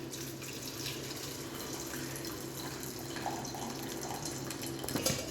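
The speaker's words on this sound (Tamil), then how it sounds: "இப்போ வந்து தண்ணியை வந்து நான் ஃபில்டர் பண்ணிடுறேன்." Water pours and splashes steadily as boiled vegetables are drained, like a pot being emptied into a sink, with a few clinks near the end.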